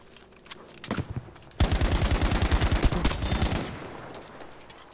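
Automatic gunfire in Battlefield V: a rapid, loud burst of evenly spaced shots, close by, after a couple of scattered single shots, then a fading tail.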